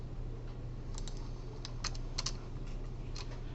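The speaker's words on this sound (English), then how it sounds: "since I'm typing in multiple lines of code" Keystrokes on a computer keyboard as lines of code are typed, a sparse scatter of light clicks in short bursts over a steady low hum, with no talking.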